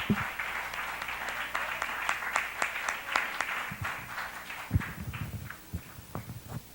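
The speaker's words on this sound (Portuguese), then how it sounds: "vamos aplaudir o Senhor." A church congregation applauds during a worship service, with dense, steady clapping that carries on at an even level for several seconds before a few deeper sounds break in near the end.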